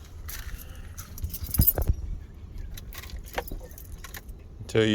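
Keys jangle and click in the ignition of a Patrol, several short metallic rattles up close, with a brief louder knock near the end in an otherwise quiet cabin.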